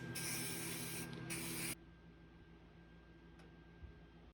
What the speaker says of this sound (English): I could also coat it in some zinc weld through primer and get to welding it on